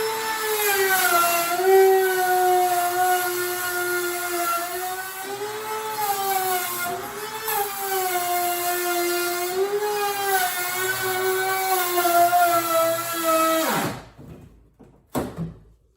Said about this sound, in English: I'm just going to use this cheap little trim router to do that.